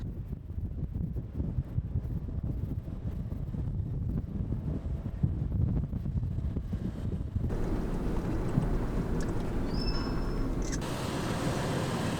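Constant desert wind buffets the microphone with a dense low rumble and hiss, shifting partway through into a slightly different steady roar.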